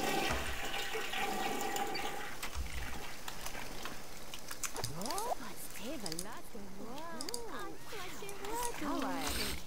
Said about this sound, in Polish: skorzystaj i weź prysznic